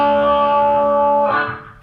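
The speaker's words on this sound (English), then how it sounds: "whenever I'm playing lead with the slide, it's going to cut through the mix a little bit better" A sustained, distorted electric guitar note played with a slide and wah, sliding upward near the end, thick with effects and loud, played alone.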